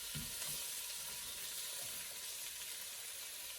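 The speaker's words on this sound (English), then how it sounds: "here we are trying to caramelize our onions to give them a bit more flavor" Onions caramelizing in a pot for French onion soup, a soft, steady sizzling hiss heard close but quietly, with a few faint low bumps early on.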